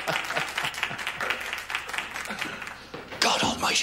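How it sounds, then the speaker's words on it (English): Audience applause in a sitcom scene for Father Dougal McGuire, brief bursts of clapping mixed with voices talking over it, growing louder near the end. "let's have a big round of applause for our very own Father Dougal McGuire"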